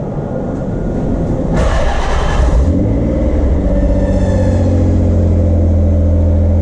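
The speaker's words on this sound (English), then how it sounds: "That's that crazy belt squeal." A turbocharged Nissan 300ZX engine runs loud and close, swelling into a harsh high squeal from its belt that lasts about a second, then falls back to a steady deep drone with whining overtones.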